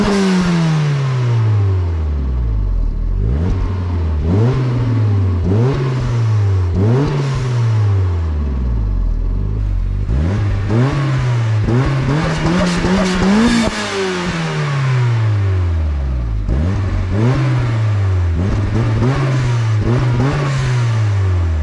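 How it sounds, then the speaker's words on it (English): A turbocharged Miata engine with its idle air control valve disconnected hunts up and down when cold, its loud, close idle surging and dropping in repeated waves with brief rises in revs. "don't mind my idle air control valve, it's not hooked up, so it idles like crap when it's cold"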